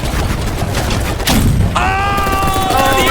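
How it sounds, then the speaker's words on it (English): Impact grenades going off in the blocky shooter Battle Bit, a loud burst of gunfire and blasts that swells into a heavy boom, followed by a ringing whine over continuing battle noise. "Oh the impact grenade!"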